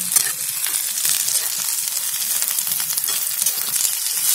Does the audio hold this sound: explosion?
no